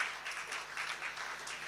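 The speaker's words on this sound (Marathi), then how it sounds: "एकदा जोरदार टाळ्या झाल्या पाहिजे सर्वांसाठी" Audience at an annual community gathering clapping in a faint, continuous, somewhat distant wash of applause with gently swelling bursts.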